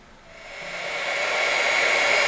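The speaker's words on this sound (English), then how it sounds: "let's go ahead and heat emboss this" Heat tool blowing onto clear ultra fine embossing powder on a card, a steady whooshing hum that builds as it starts up and then holds constant, alone.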